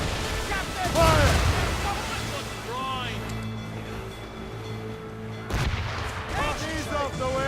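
Ship cannons firing during a naval battle in Assassin's Creed Rogue, heavy booming blasts with rumbling echoes over ocean wind and waves, shouted orders between shots.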